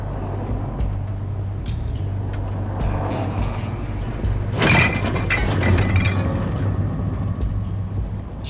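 A car drives along with a steady low engine hum and road noise, broken by a brief louder whoosh midway and a few faint mechanical clicks.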